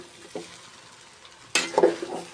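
Boiled noodles for vegetable noodles being stirred up from the bottom of a pan: a quiet stretch with one small scrape, then a loud burst of close scraping and sizzling strokes, with no talk.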